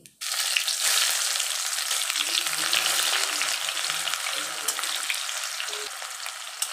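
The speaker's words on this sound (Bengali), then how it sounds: "পেঁয়াজটাকে লাল লাল করে ভেজে নেব।" Chopped onions with cumin seeds and bay leaves fry in a pan. The sizzle is steady, close and loud throughout, with light stirring noises low underneath and no talking.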